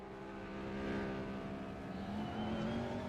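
A race car engine holds a high, steady redline whine through a lakeside castle race, loud and continuous with a strong harmonic drone and no talk.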